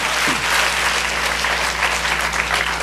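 A church congregation claps together in sustained, dense applause, loud and even across the whole stretch, with no voices standing out.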